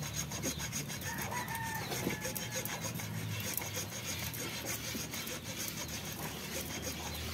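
Steady, continuous rasping scrape on the metal blade of a kalis sword during restoration, sustained and fairly close without pause, with a rooster crowing faintly in the background.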